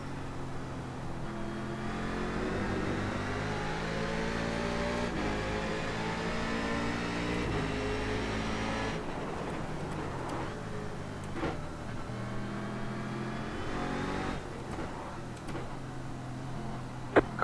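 A Corvette C7 DP prototype race car with a six-speed sequential gearbox, driven in the iRacing sim at Road Atlanta, drones steadily at high revs, its engine note rising and falling through gear changes, close and continuous with no talk.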